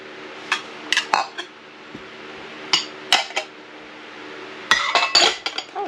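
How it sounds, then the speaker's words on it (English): Dishes clink and clatter as they are set on a shelf, with several separate sharp chinks of glass and ceramic in loose bursts, close by and without talk, over a faint steady hum. "let's put the dishes away first"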